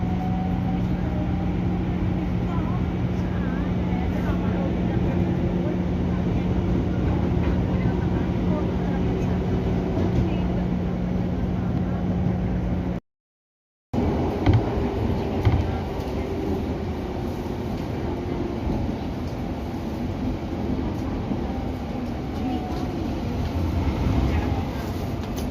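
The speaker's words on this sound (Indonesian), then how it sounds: "Ini sudah diberangkatkan dari stasiun Bekasi." A KRL Commuterline electric train pulls out of Bekasi station, heard from inside as a steady, even rolling rumble that briefly cuts out partway through.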